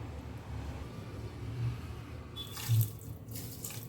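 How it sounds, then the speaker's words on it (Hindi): Water poured into sugar runs and splashes softly for a few seconds with a low rumbling background, close by and fairly quiet, without any talking. "उतना ही मैं इसमें पानी डालूंगी"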